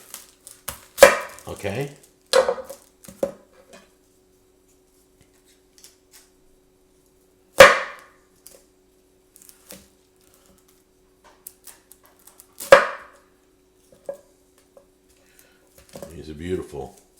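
A Santoku knife strikes a cutting board in sharp, isolated chops spaced several seconds apart, with quieter taps between and a short flurry of rapid cuts at the end; a voice speaks briefly.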